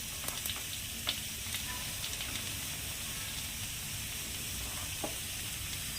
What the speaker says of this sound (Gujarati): લસણની ચટણી નાખી તરત વઘાર કરી દેવાનો